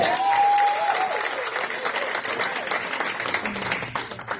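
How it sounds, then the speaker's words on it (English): Sustained audience applause at an anti-corruption conference session, a dense even wash of clapping from a large crowd that carries through the whole stretch, with a brief tone early on. "So give them another round of applause"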